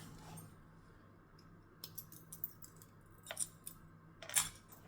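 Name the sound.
trimming thread with scissors after sewing a pouch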